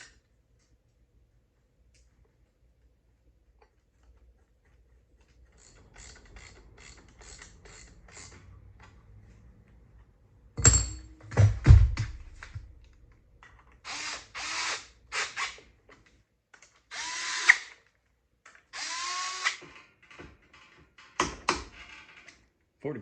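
A new belt/clutch cover being bolted onto a 450 ATV: faint metallic clicks and rattles at first, then several loud, close bursts of ratcheting and tool whirring with clanks, coming in short separated spurts.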